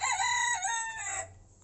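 A red rooster on a small poultry farm crows once, a clear close cock-a-doodle-doo lasting over a second before trailing off into quiet.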